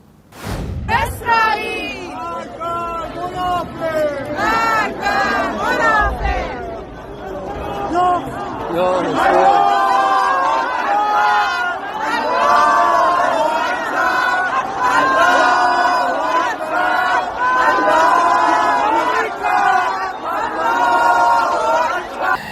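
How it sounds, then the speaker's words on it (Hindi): A dense crowd marching in Tehran, Iran chants slogans in loud, rhythmic unison, shouted phrases repeating over a continuous roar of many voices. "तो तो नारे लग रहे हैं। ईरान के तेहरान में मार्च निकला है"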